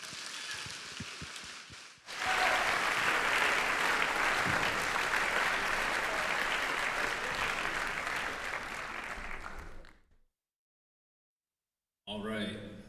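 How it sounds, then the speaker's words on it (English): A crowd at a high school spring band concert applauds steadily for several seconds, a full dense clapping that swells then cuts off, followed by silence and a brief voice. "Let's give them one more round of applause."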